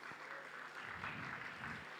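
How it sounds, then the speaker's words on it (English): An audience at a school event applauds, a quiet, steady wash of clapping that lasts throughout. "Can we have huge round of applause for Athara, please?"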